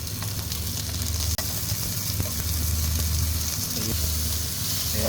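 Eggs sizzle and fry in a pan at a steady, moderately quiet level, with one sharp knock partway through and no talk.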